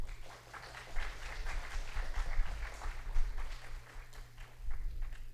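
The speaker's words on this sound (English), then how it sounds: "I will request all of you to kindly welcome him with a very warm applause." An audience in an art presentation hall applauds to welcome the chief guest, Shri B.N. Goswami, with steady crowd clapping that carries on for several seconds over a low background hum.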